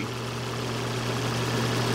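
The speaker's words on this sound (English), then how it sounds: "As you can hear, we have an excellent running 2007 Volvo S40." A 2007 Volvo S40 with a 2.4-liter engine idles steadily up close, making a smooth continuous low hum and rumble with no talk.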